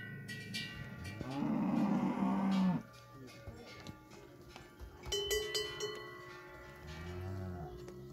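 Cows on an alpine pasture give a long, loud moo up close, then a second quieter one, with cowbells clanking and tinkling throughout in the open air.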